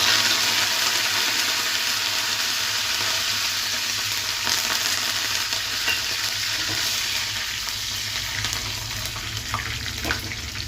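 Mustard seeds, crushed shallots, dried chilies and curry leaves fry in hot oil for a red chili tomato chutney, giving a loud, steady close sizzle with faint crackles throughout and no voices.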